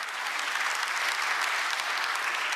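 Audience at a Korean government committee policy report presentation applauding, a dense, steady wash of clapping from many hands filling the room without pause.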